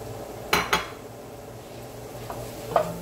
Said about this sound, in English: And I'm just going to continue to stir it.